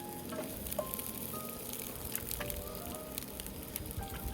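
Garlic and onions fry in a pan, a steady close sizzle with light crackles and pops throughout.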